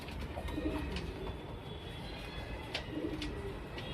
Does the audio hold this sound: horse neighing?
no